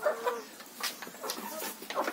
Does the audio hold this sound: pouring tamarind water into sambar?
no